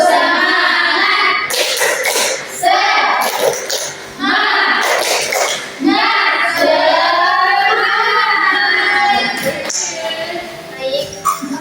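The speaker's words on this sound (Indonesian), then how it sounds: "Tepuk semangat." A classroom of students stands and performs a rhythmic spirit clap, sharp bursts of clapping punctuating loud group chanting and children's voices.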